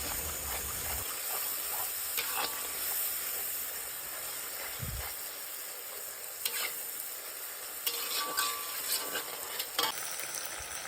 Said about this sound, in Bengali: এখন এর মধ্যে আদা রসুন কাঁচা লঙ্কার পেস্ট দিয়ে দেব,